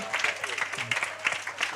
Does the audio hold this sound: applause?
yes